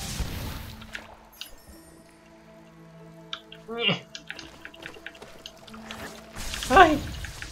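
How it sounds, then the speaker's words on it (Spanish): Splashing, pouring water in Ori and the Blind Forest, heard in a couple of short bursts, the loudest near the end, over sustained game music with brief vocal sounds. "Cuidado el agua."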